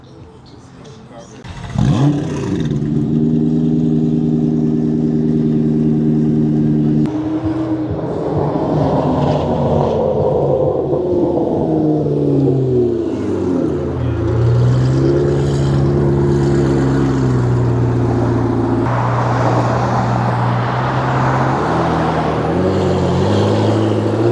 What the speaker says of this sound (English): That is the best sounding McLaren GT I have ever heard.